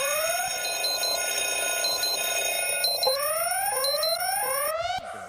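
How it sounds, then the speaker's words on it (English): Electronic alarm clock ringing loudly and continuously with repeated beeping tones and rising warbling sweeps, then cutting off abruptly near the end. "Go ahead and hit the alarm."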